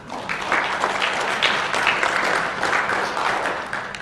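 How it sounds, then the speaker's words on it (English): Sustained applause from a conference audience at a brand awards presentation, a steady dense patter of many hands clapping throughout without pause, moderately loud and filling the room, with no speech over it. "a big round of applause for all the top 10 brands"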